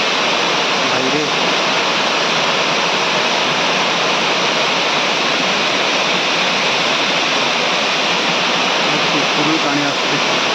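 Water rushes steadily at Ashokjhar waterfall in Jajpur, Odisha, giving a loud, continuous broadband roar with no pauses, and faint voices can be heard beneath it.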